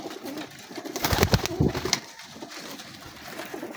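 Pigeons cooing and flapping at a pigeon-flying gathering, soft coos under close, loud bursts of wing flaps in the middle, without speech.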